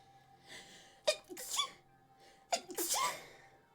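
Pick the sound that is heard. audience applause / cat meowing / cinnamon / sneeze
sneeze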